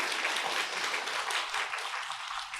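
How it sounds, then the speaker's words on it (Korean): A church congregation at a Sabbath service applauds steadily in welcome, a dense, even wash of clapping that carries on without pause. "박수로 환영해 주시기 바랍니다."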